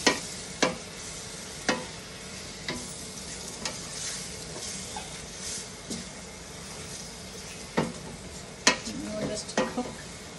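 Vegetables sautéing in rendered chicken fat with salt and pepper, a steady close sizzle under scattered sharp clinks and scrapes of a utensil against the pan, no talking.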